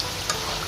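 French fries frying in oil, a brief close hiss of steady sizzling with a single sharper crackle.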